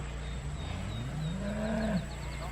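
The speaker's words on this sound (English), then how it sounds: "Don't mind Clemmy's mooing" A cow named Clemmy moos once in a long, rising and falling low call on a farm with a garden, fairly close, over faint steady background noise.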